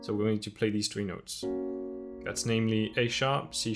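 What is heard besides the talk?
None of the usual background noises is heard.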